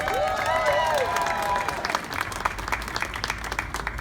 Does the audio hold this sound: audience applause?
yes